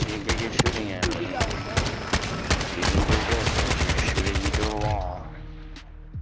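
Gunfire in a Modern Warfare 2 Search and Destroy match, rapid loud automatic bursts layered over one another with a few single shots. It trails off near the end under a brief voice.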